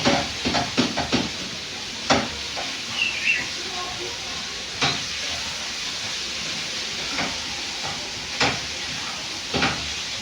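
Sausage and potato being stirred in a frying pan, with a steady hiss of sizzling under repeated sharp clinks and scrapes of the utensil against the pan, some close and loud, others softer.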